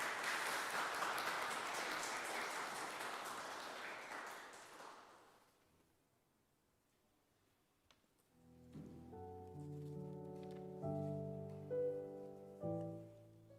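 A church congregation in Dortmund claps for several seconds during a Sunday service, the applause fading to quiet before soft keyboard music begins.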